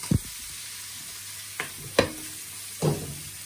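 Curry with potato, drumstick and jackfruit cooking in a pan, a low frying sizzle broken by four sharp scrapes and clinks of a spoon stirring, with no talk.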